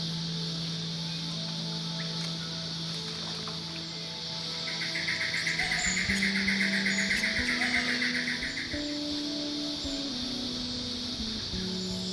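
Bird calls chirp over a steady insect drone and a low engine hum, fairly faint, with a brief rise in the chorus midway.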